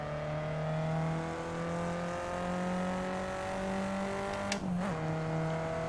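Simulated race car on the Pau street circuit in a racing simulator, engine droning steadily as it accelerates, with a brief sharp burst near the end.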